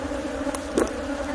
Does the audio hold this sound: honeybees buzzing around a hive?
yes